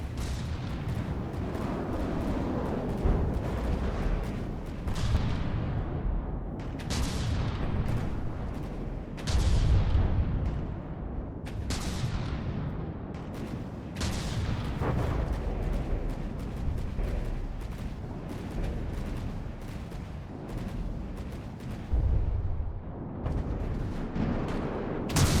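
Ship weapons firing in the naval combat game From the Depths, with repeated heavy booms and rumbling blasts spread across the stretch, loud and dense, with occasional sharper cracks.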